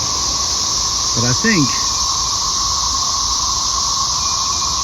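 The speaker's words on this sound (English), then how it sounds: "That spaceship sound you hear off in the distance over there, that's just millions of bugs." Millions of periodical cicadas on a walking trail form a steady, droning, spaceship-like whine that hangs far off in the background, with a person speaking briefly over it.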